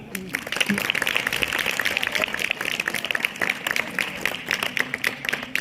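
A school audience at a results-declaration ceremony claps continuously for the girls who took the top positions, a dense, even roar of many hands lasting several seconds.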